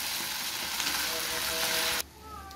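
Canned tuna and its oil frying in a pan while being stirred, a loud continuous close sizzle that drops off abruptly near the end.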